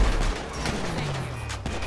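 Gunfire in GTA 5 crackles as a quick run of several sharp shots over a noisy street background, moderately loud and with no talking.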